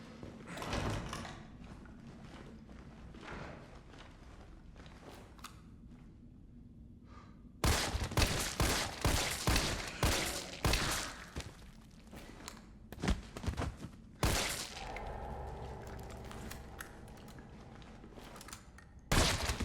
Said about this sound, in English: We get its attention with a single shot and then just wait for it to kind of get in our sights.